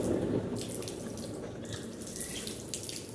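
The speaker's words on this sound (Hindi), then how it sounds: "3 बार हम कुल्ली करेंगे" Water running and splashing while the mouth is rinsed during wudu, a steady close trickle with faint sloshing, quiet and without talk.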